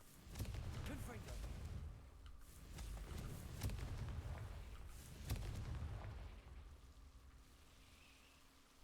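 A Confringo fire blast spell cast in Hogwarts Legacy, heard as a few sharp booming blasts with crackling rumble under game ambience, fairly faint, with occasional voices.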